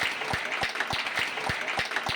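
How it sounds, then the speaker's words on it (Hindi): Audience applause at a Hindi literary and poetry gathering, steady rapid clapping from many hands heard at moderate distance, fairly soft and continuous throughout the short stretch. "सारा सदन एक बार हाथ उठाकर तालियां बजाए"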